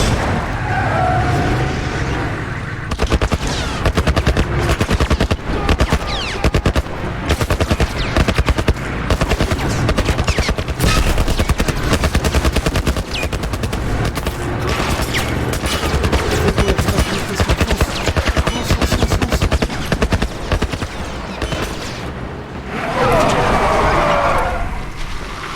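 Dense gunfire in The Last of Us Remastered, rapid bursts and machine-gun fusillades rattling almost continuously over about 25 seconds, loud and close, with occasional game voices mixed in.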